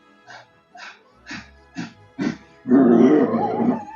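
A growling mad-dog sound effect for a tabletop role-playing game: five short, harsh huffing bursts in an even rhythm, then a loud, sustained, rasping growl, close and isolated.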